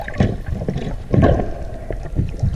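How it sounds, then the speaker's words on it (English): Water slaps and sloshes against a small boat hull about 3 miles offshore in irregular bursts, with gusty wind buffeting the microphone. "This is our little boat that we took out."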